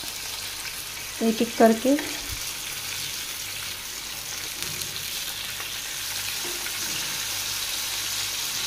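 Kebabs fry in hot oil with a steady, close sizzle throughout, while a brief voice speaks near the start.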